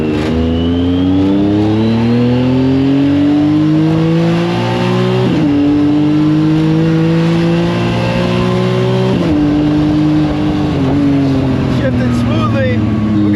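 A Yamaha YXZ 1000 side-by-side with new brakes, clutch pads and bearing accelerates hard nearby, its engine climbing in pitch, then dropping sharply at two quick gear shifts before pulling up again, loud and continuous.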